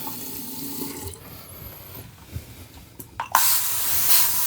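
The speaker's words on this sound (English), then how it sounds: "why do I use the sprayer to clean up my face when I had the sink open?" A kitchen-style sink sprayer hisses and splashes while rinsing a face after a shave, a close, steady rush of water that swells louder near the end, with faint handling clatter and no speech.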